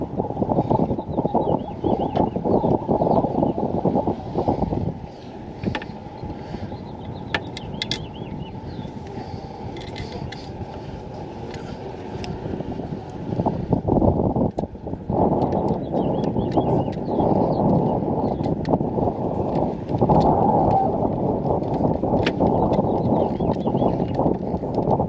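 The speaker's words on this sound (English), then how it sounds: "It's a bit windy." Wind buffets the microphone in heavy rumbling gusts, easing briefly midway before roaring up again.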